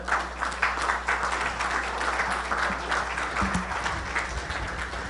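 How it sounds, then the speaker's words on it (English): A crowd applauds steadily, dense clapping filling the room without a break, with no voices standing out. "give me another round of applause for Vince Palomara."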